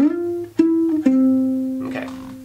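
An electric guitar plays a short fragment of a song's guitar part, three plucked notes ringing in sequence, then a brief scratchy strum at the end; close and clear with no talking.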